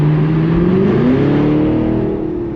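A Camaro with an LT1 engine revs loudly and steadily close by, its tone climbing and settling through a sustained run of throttle with no voices.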